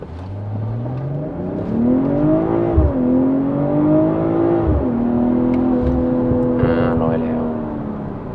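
A BMW M340i xDrive (LCI) launching from 0 to 100 km/h in Sport Mode, its engine note climbing steadily through several gears with brief dips at each shift, loud and close from inside the cabin.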